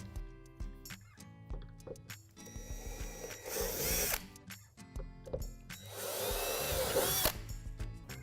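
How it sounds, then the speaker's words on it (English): Power drill boring two divots into a Lifetime children's playhouse wall panel, with two loud whining bursts of drilling separated by quieter clicks and handling noises of assembly. "On the right wall panel, we're going to drill out 2 divots underneath the opening."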